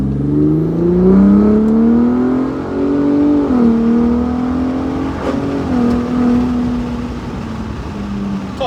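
A Ford 3.5 EcoBoost with Raptor downpipes, revved up close and loud, its exhaust climbing then easing back in pitch over several swells before settling to a lower, steady hum.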